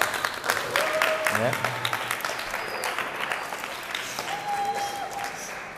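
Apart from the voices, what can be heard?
audience applause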